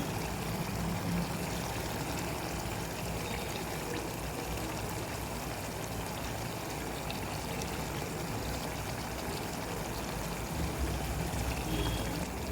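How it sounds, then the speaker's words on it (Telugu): Water is poured into a small-fish tamarind curry in a pan, a steady, quiet, continuous trickling that runs without a break and without any talk. "కొంచెం అంటే కొంచెం నీళ్ళు పోసుకున్నాం"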